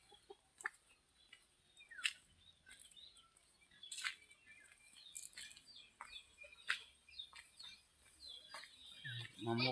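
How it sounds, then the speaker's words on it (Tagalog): Chickens cluck and squawk in short, scattered bursts at a moderate distance, with irregular calls rising and falling over quiet outdoor background noise. "Unsa naman kini ang manok."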